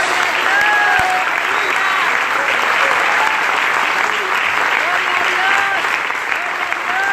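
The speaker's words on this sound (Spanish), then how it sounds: "Y usted me lo indica con un aplauso cuántos aman a Jesucristo en esta noche." A church congregation applauds at an evening service in Dallas, Texas: loud, dense, sustained clapping fills the room without a break, with voices calling out over it.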